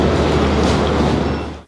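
A train runs at a rail station with a loud, steady rumble and hiss of rolling stock close by. It fades slightly near the end and is heard without any talk.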